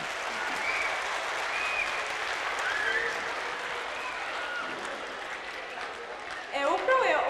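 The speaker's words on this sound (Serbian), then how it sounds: "Pozdravimo ga velikim aplauzom." Audience applause for a school director at a primary school youth festival, steady, dense clapping from a large crowd held at an even level, swelling slightly louder near the end.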